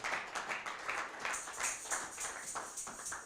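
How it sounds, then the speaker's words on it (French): A church congregation claps together for Jesus during a bilingual English and French sermon, a steady, fairly faint patter of many hands in a loose rhythm throughout. "Put your hands together for Jesus."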